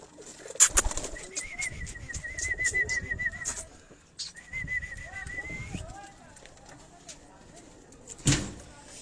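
Pigeons of different breeds on an Abbottabad rooftop coo in soft, repeated calls, with wing flaps and a brief clatter near the end, while people talk nearby.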